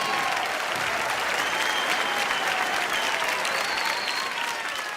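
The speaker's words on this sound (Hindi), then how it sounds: "जोरदार तालियां सभी टीमों के लिए।" Studio audience at a comedy show claps for all the teams, steady and continuous applause from a large crowd, fairly distant and even throughout.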